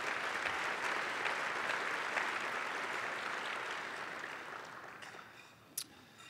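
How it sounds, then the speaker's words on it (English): Applause from a luncheon audience at a civic design center event honoring elected officials, a steady wash of many hands clapping that holds strong, then gradually fades with a final sharp clap near the end. "Let's give a round of applause for our elected officials."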